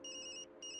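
Mobile phone ringing in the video game Tokyo Dark, two short bursts of a bright electronic ringtone with a brief gap between them.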